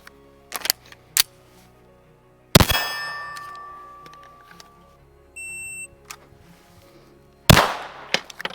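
Handgun fired after drawing from a holster at a shooting range: a few sharp, loud gunshot cracks spaced seconds apart, the biggest ringing out with a metallic clang, plus softer clicks and a brief electronic beep between shots.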